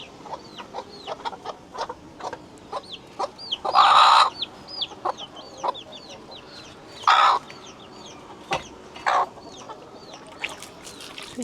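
Backyard chickens clucking close by in a homestead coop, a busy scatter of short repeated clucks and chirpy calls with a few louder squawking bursts standing out over the steady flock chatter.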